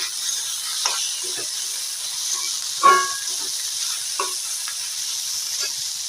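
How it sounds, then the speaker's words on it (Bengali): Cumin seeds and dried red chillies splutter in hot oil as a tempering for boiling dal, a continuous soft hiss punctuated by scattered small pops and a stronger crackle partway through. "ডালের মধ্যে এখন আমি জিরা আর শুকনো লঙ্কা ফোড়ন দিয়েছি"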